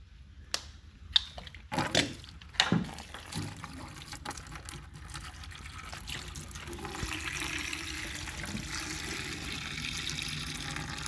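Liquid drains from a vehicle's rear heater, removed during a van build, into a bucket; a few sharp clanks and knocks come first, then a steady, soft trickle and pour carries on to the end, with no talking.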